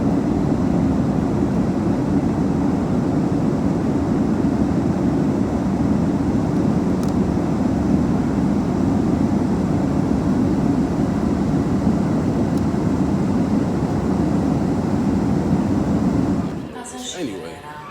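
Steady, loud broadband rumble fills an airplane cabin during takeoff or landing, a constant engine and airflow roar that continues unbroken before abruptly dropping off near the end.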